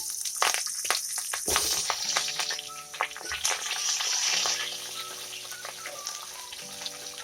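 Cut potatoes hitting hot oil in a pan while cooking kumro shak, with sharp clattering drops and then a bright, crackling sizzle that holds steady at close range, a faint hum beneath and no talk.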